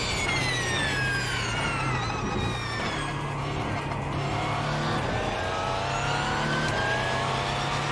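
Race car engine in iRacing at Le Mans, a downforce car chased by a Porsche: a loud, steady engine drone with rising and falling rev sweeps and gear changes, continuous throughout.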